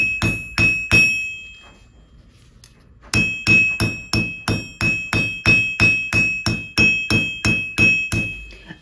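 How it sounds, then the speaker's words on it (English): A hammer striking a copper bracelet blank in steady, ringing metallic blows, close and loud: three strikes, a short pause, then a long even run of about sixteen more. "my copper has started to bow up because of the hammering"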